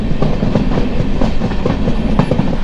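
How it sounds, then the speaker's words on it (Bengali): Rhythmic clickety-clack of train wheels on rails as the Radhikapur Express speeds up, steady rumbling close by with repeated clacks, no voices. "আমাদের ট্রেনে এখন গতি বাড়াচ্ছে"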